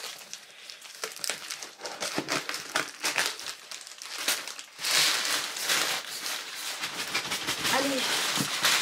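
Crinkly parcel packaging is snipped and crumpled with scissors, a run of rustling, crackling cuts and crinkles that grows louder midway, while a person talks quietly over it.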